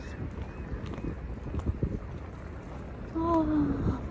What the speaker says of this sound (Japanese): 風の音が多分ゴーって言ってるような気がする